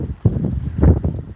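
Strong tropical storm winds gust at 50 to 60 mph in Ocean City during Tropical Storm Ophelia's storm surge flooding, buffeting the microphone with heavy, uneven low rumbling blasts close up, with no talking.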